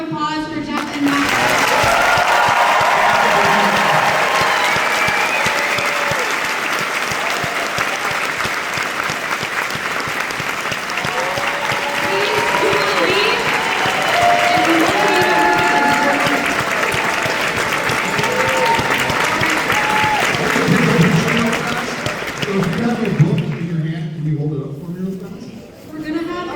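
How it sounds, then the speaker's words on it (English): Sustained audience applause at a live author event in Kansas City, dense and loud for about twenty-five seconds, with whoops and voices mixed in before it thins out at the end. "massive round of applause for Jeff and Matt."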